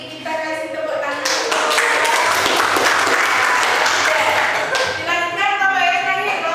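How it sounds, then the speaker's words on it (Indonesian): Classroom applause from students after a group presentation in a lesson, steady and dense for several seconds, rising quickly and tapering near the end, with some voices mixed in. "Kita kasih tepuk tangan."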